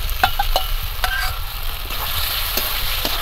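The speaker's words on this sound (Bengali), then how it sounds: "এবার আমি ভেজে রাখা আলুগুলো দিয়ে দেব।" Fried potatoes tumble into hot oil and spice masala for a Bengali mochar ghonto dalna, with steady loud sizzling and sharp scraping stirs of a spatula against the pan, no voices.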